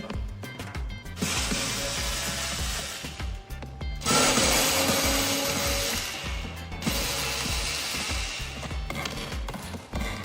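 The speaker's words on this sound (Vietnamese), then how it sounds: "Thì vít này bắn khỏe lắm các bạn." Cordless electric screwdriver driving screws while parts are stripped from a battery-powered electric vehicle, with several sustained loud whirring bursts separated by short pauses, alone and close.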